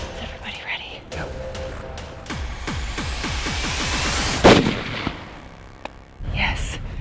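A hunting rifle fires a single sharp gunshot at mid-distance amid whispered talk from hunters, followed by quieter murmuring and rustling.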